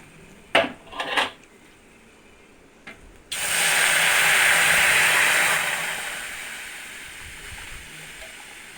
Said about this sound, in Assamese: এতিয়া আমি পানী ঢালি দিম ইয়াতে